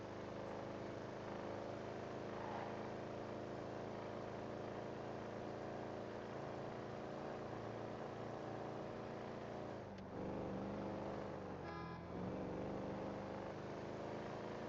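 Car speeding at over 100 mph in the video game GTA FiveM, a steady droning engine and road roar held at high speed, with a brief shift in pitch near the end.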